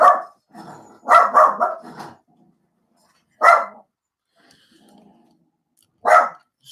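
A dog barks nearby in loud, sharp bursts, a quick cluster of barks followed by single barks spaced a few seconds apart, with quiet gaps between.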